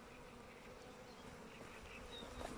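A steady, close buzz of honeybees fills the clip, droning continuously with a few brief louder passes, heard while beekeeping with Caucasian and Carpathian queen bees.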